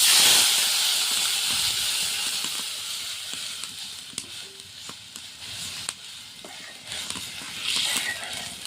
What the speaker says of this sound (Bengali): এখন এতে দিয়ে দেবো জল।